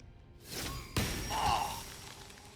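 Hammer weapon blows landing in a Baldur's Gate 3 fight: a whoosh, then one sharp heavy thud with a brief ringing shimmer after it, mid-loud against busy game ambience.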